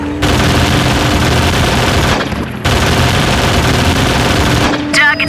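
Sustained squad gunfire in the video game Full Spectrum Warrior, a dense continuous rattle of automatic weapons with a short gap midway, loud and close, with a faint voice near the end.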